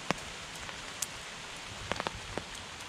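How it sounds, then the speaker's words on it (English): Steady rain patters on a woodland canopy above a campfire shelter, a soft, even hiss with occasional sharper drips and ticks close by. "it started raining"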